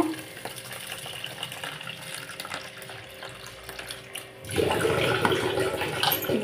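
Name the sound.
water running from tap while rinsing broken wheat (dalia)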